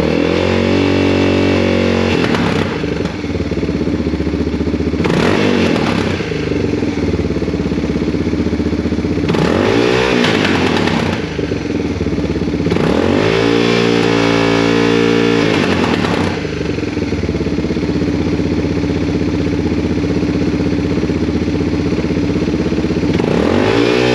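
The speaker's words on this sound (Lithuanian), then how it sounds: "reikia dabar šildytis motociklą" A carbureted motorcycle engine idles steadily while warming up, loud and close, with several short revs spaced a few seconds apart and no talking.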